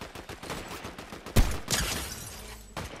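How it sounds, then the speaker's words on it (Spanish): Gunfire in the video game Fortnite, a rapid burst of shots followed by a single loud, close crack and a few scattered later shots, with no talk over it. "Nos están disparando por detrás"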